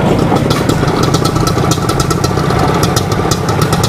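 A motorcycle engine runs steadily and loud up close on a street in Havana, Cuba, with a continuous throbbing rumble and rattling, and no talk.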